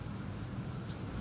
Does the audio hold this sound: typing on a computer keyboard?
no